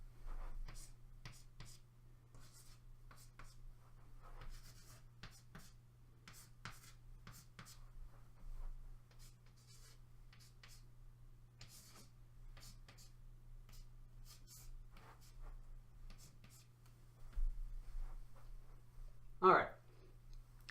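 Chalk or marker writing scale degrees on a board during a piano lesson, faint scattered taps and short scratchy strokes in a quiet room, with a voice speaking quietly and a low steady hum underneath.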